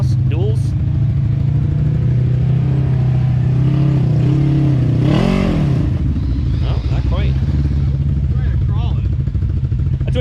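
A side-by-side ATV engine with a performance tune and dual full exhaust runs loud and steady throughout while riding in the rain, with a brief rev surge midway and a voice talking over the constant drone.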